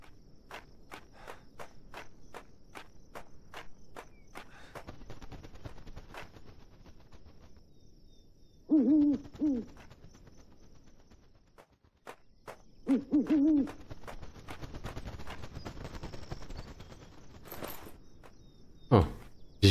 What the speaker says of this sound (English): A ghost bird.